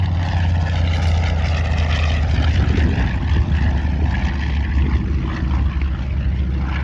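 WWII Grumman TBF/TBM Avenger propeller plane flying past at an airshow at Dover Air Force Base, a continuous heavy engine drone with a steady low rumble that holds loud throughout.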